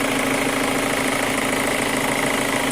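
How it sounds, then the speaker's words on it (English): Steady idle of a 2005 Chevy Cobalt LS 2.2L four-cylinder with a suspected lifter tick and a cylinder 4 misfire, a continuous close engine drone with a fine rapid ticking texture throughout, no voices. "That's the sound I mean, and it sounds like a lifter."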